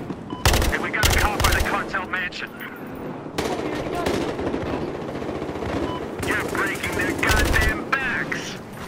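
Gunfire in the Battlefield Hardline video game: loud bursts of rapid shots crack out near the start and again toward the end, with continuous battle noise between and a voice talking over it.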